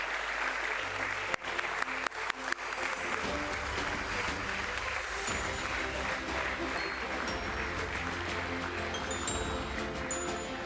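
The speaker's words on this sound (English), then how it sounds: "Please have a big round of applause" Sustained, dense applause from a ceremony audience marking a 40-year SENSEX celebration, steady and full throughout with a few sharper claps early on.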